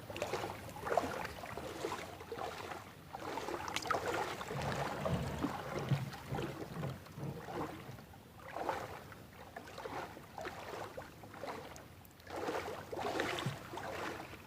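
A small boat moves through shallow river water only about 30 cm deep, with soft, faint sloshing and splashing rising and falling in uneven surges, along with light wind noise and no talking.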